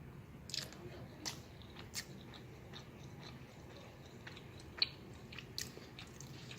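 Cooked homemade rice being tasted, a few soft crunchy bites and close chewing sounds, quiet and intermittent, with no talking.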